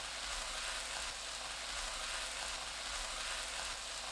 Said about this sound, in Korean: 센 불로 볶습니다. 지글지글 소리 나면 중강불로 바꾸고 쑥갓, 홍고추 넣어주세요.